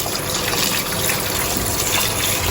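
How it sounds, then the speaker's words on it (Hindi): Cold water gushing steadily over freshly cooked food in a home kitchen to keep it from sticking together, a loud, continuous close-up rush with no speech. "ऐसे ठंडा पानी डाल के ना इसको हम ज़रा वो कर लेंगे थोड़ा और सेपरेट, ताकि ये जुड़े नहीं।"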